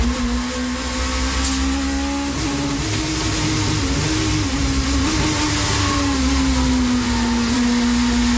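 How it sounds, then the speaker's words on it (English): A Renault touring car engine in a 1990s championship race drones steadily at high revs approaching a chicane, its pitch wavering and dipping unevenly as the gears fail to shift cleanly, with no voices. "listen to the Renault's engine note as he heads for the chicane. The car is missing gear changes"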